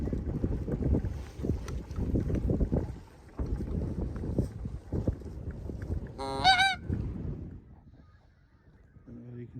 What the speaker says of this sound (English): A lot of geese there.